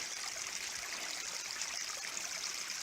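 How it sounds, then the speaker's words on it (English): Rainwater trickles down rock on a mountain trail in the High Peaks, a faint, steady babbling wash of water with no pauses and no talking. "Here's a place where that rainwater's coming down and it's formed a little foam where it's caught"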